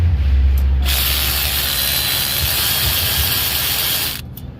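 A Snap-On brushless 3/8-inch drive cordless ratchet loosening a charge air cooler tube on a 7.3 Powerstroke turbo job: one loud, continuous whirring spin of about three seconds, close up.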